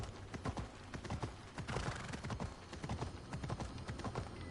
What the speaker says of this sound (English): Horse is moving slower than person again.